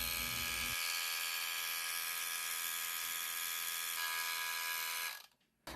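A NEWTRY electric dreadlock crochet machine with a double-prong crochet hook runs with a steady high-pitched motor whine and buzz, close and constant, then cuts off abruptly near the end.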